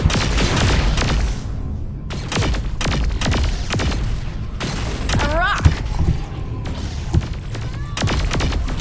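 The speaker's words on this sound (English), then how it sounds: "Things are exploding all around us!" Explosions rip through the alien mothership in Saints Row IV, a dense run of booms and crackling blasts with sharp thuds and bursts, loud and continuous across several seconds.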